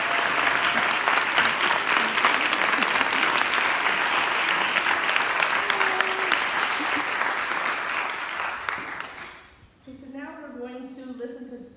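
An audience stands and applauds at a student award ceremony, a long, steady wash of clapping that holds for several seconds, then fades as a voice begins speaking at the end.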